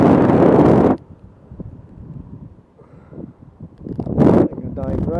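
Wind buffets the microphone during a model glider flight, with a strong rushing gust at the start, a quieter stretch, then another loud gust near the end.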